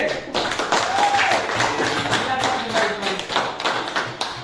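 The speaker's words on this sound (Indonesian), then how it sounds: "beri tepuk tangan untuk kelompok B" Classroom of students clapping for a student group after its presentation, a steady patter of many hands lasting several seconds, fairly close and filling the room.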